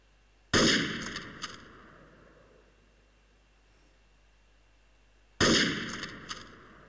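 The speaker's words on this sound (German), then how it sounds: "auch wenn es 4 Schüsse waren" Two loud gunshot bursts in the game Trouble in Terrorist Town, each a sharp crack of several rapid shots with a ringing tail, spaced about five seconds apart over a quiet background.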